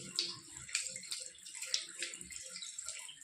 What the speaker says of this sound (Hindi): मुंह में रखते हुए पानी से दोनों आँखों को बारी बारी 15-15 बार आँखों में पानी डालना है ऐसे।